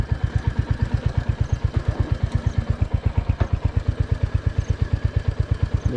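A Royal Enfield motorcycle engine thumps close by in an even, rapid, low pulse that holds steady with a loud mechanical clatter.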